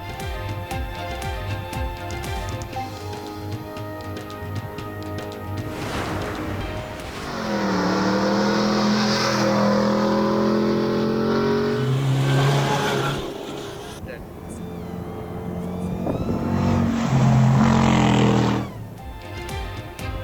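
Jeeps racing in the Cholistan Jeep Rally in the Bahawalpur desert, engines revving hard and roaring past in two loud surges over a lower background engine drone.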